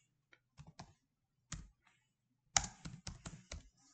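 Password typed on a computer keyboard, a few close, quiet key clicks at first, then a quicker run of sharp taps in a silent room.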